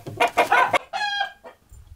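Roosters crowing near a shed with hens in a village yard in the Kastsiukovichy district of Belarus: loud, close clucking calls followed by a clear drawn-out crow, with no talk.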